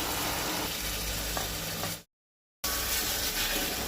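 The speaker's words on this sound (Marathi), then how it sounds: "धुवन दवरलेली ती सुंगटां घालता आनी तिवूय बरी तळसून घेता।" Small washed prawns frying in oil with onion in a Goan-style dry prawn dish: a steady close sizzle and crackle, briefly cut to silence midway before the frying resumes.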